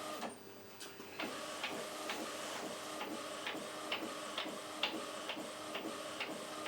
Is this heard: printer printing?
yes